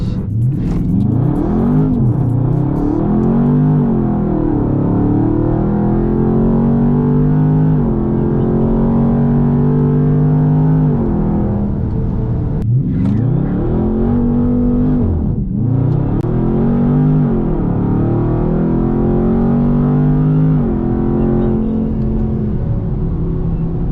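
Automatic Dodge Charger Scat Pack accelerating hard in a roll race, its engine revving loudly and continuously with rising pitch sweeps through gear shifts, a brief lift around the middle, heard close with no talk.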